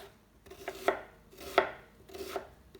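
A knife chops two onions on a board in a few sharp, separate strikes, close and distinct with quiet gaps between them and no talking.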